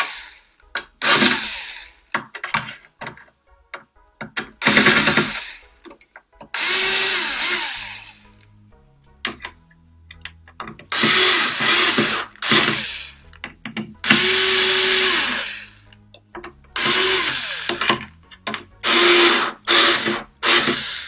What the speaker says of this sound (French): vous allez visser les 4 vis des capteurs pour les fixer correctement